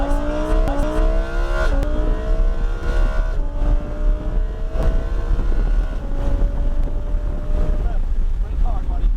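A Lamborghini Huracan EVO accelerates on a race track, its engine note climbing in repeated rising sweeps through the gears, loud and close, with heavy wind rush in the background.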